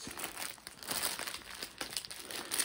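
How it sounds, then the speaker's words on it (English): Plastic packaging crinkles and rustles continuously as it is opened during a Halloween unboxing, close and fairly loud, with no talking. "If you do not like the crinkling sound, I do apologise."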